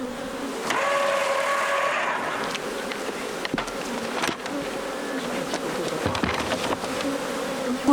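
Swarm of honeybees at a beekeeping site in Jeju buzzing continuously, a dense close drone with individual bees passing near, with no talk.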